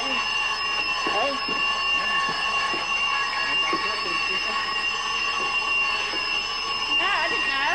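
A fire alarm rings continuously after a service button is pressed, a steady shrill electronic tone sounding throughout while several people talk over it.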